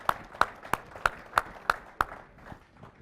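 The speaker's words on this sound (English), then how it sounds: "And how about a round of applause for Casey one more time?" Crisp hand claps at an industry presentation, about seven evenly spaced claps close to the listener that stop after two seconds, leaving only faint room noise.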